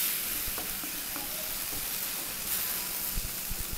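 Sorrel leaf gravy, gongura pulusu, simmering in a pan with a steady soft sizzle and bubbling hiss throughout, with occasional light pops and faint stirring touches.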